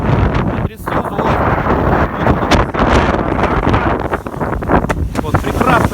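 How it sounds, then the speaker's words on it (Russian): Strong east wind of up to 30 knots buffets a sailboat at sea near a rocky shore under grey skies. Loud, continuous gusting wind roars across the microphone with rough rustling bursts throughout. "ветер восточный, волна не очень большая, но ветер хороший. До 30 узлов."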